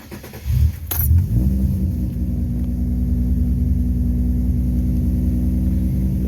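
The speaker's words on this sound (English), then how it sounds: "go ahead and turn the car on." An Infiniti G35 starts up after a Deatschwerks DW300 fuel pump install: a short crank and catch, then the engine settles into a steady, low, even idle close by, with no talking.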